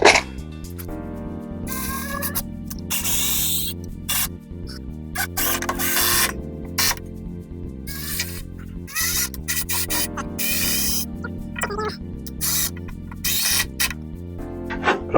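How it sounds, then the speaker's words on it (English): A power driver runs screws into the wooden framing of a pocket door at the king stud, giving repeated whirring bursts with short gaps between them, loud and close. "Now fire some screws in there."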